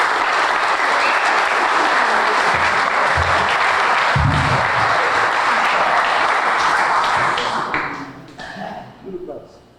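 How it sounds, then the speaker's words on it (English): A gathering at a sandlot baseball reunion breaks into a long round of steady, dense applause from many hands, holding strong before thinning out and fading near the end, with voices mixed in. "Let's give him a nice round of applause for that."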